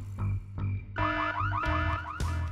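An alarm goes off in the video game Full Throttle Remastered, a loud electronic wail that repeatedly sweeps up and down in pitch over low music, with no talking.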